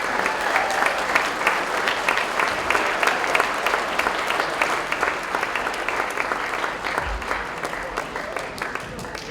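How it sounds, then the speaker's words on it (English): Sustained crowd applause at a Super Smash Bros. Ultimate esports finals awards ceremony, honoring Lafayette Jefferson High School, with many hands clapping steadily for about nine seconds and voices murmuring underneath. "One more round of applause for Lafayette Jefferson High School."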